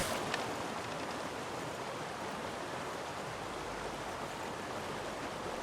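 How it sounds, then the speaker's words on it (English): Steady river water flowing in the fishing game Call of the Wild: The Angler, South Africa setting, a constant even rush that fills the whole stretch without a break and with no talk over it. "Kind of hard to hear with the constant flow of the water"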